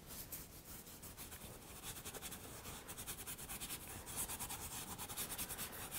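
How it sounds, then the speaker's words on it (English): A paintbrush scrubbed hard into a surface, a faint dry rubbing scratch in quick rhythmic strokes, close and alone without talk. "I'm just really scrubbing this brush into the surface"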